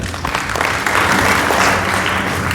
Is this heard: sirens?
no